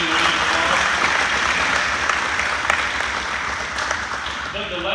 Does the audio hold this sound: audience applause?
yes